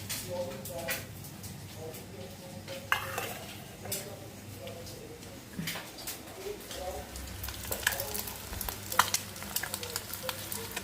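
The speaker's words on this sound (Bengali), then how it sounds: "বেসন বড়াগুলো এবার তুলে দিয়ে আর বেগুনটা ভেজে নেব" Eggplant frying in hot oil in a pan, a steady sizzle running throughout with occasional clinks of a utensil against the pan, while a voice talks over it.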